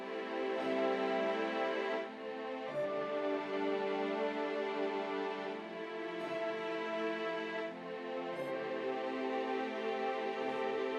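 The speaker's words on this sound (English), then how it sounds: "So I layered this piano with this trumpet to sound like this." Bright single piano and trumpet notes layered together sit on top of sustained chords in a 2000s-style beat, with the harmony changing every couple of seconds and no voices.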